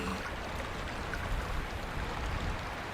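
In the video game Myst, water droplets patter steadily against a continuous wash of trickling water, a dense, even, stream-like hiss throughout.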